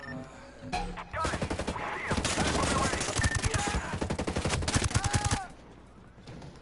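Rapid gunfire from hostile enemies in the video game Ghost Recon Breakpoint, dense automatic bursts and overlapping shots for several seconds, loud and close, ending abruptly.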